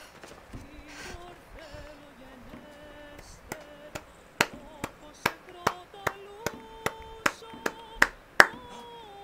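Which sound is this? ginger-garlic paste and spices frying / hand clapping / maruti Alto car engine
hand clapping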